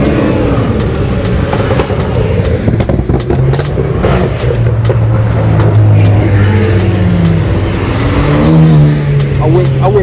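Cars leave a Cars and Coffee meet in Charlotte with loud, continuous engine revving and accelerating, one vehicle after another roaring past close by, while people talk over the noise.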